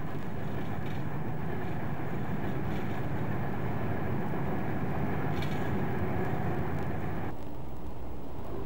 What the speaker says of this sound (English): Work on the new link is much in evidence as the train runs towards Exchange.